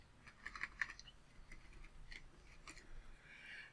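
Light tapping on a computer keyboard while entering menu code for a web page, quiet and close, a quick burst of clicks followed by scattered softer keystrokes.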